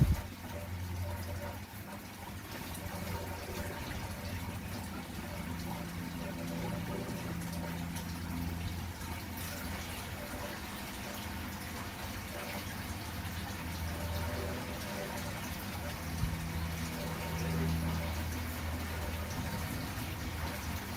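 Water steadily pours and churns into a saltwater aquarium tank, a continuous moderate rushing with a low pump-like hum underneath, unbroken for the whole stretch and without talking.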